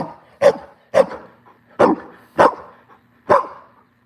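A house dog barks repeatedly at close range: five loud, sharp barks spaced about half a second to a second apart, each standing alone against a quiet room.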